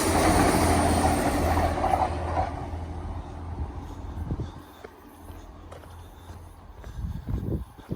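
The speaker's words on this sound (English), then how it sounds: "Trans-Pennine coming down." A Trans-Pennine Class 185 diesel multiple unit rumbles past loudly at first with a strong engine drone, then recedes into fainter rail noise and wheel clatter, with a few thuds near the end.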